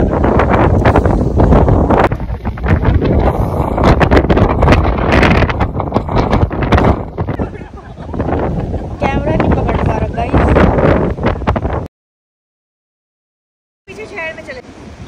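Strong wind buffets the microphone outdoors, a loud continuous rumbling roar with gusty surges, briefly cutting out before resuming faintly.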